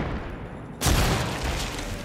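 A grenade explodes in Apex Legends amid gunfire, a sudden booming blast that breaks through a dense wash of battle noise and then trails off into continuing rumble.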